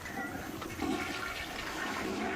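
A toilet flushes nearby, a steady rushing gurgle of water that holds at an even level throughout.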